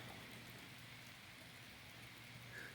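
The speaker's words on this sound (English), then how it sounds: "It started raining." Steady rain falling outside a house, heard from indoors as a constant soft hiss that stays even and fairly faint throughout, with no voices.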